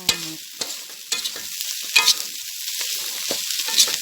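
Field rat meat stir-fried in rat fat and lard in a dry pan, a close steady sizzle broken by repeated scraping stirs and clacks, loud and continuous with no voices.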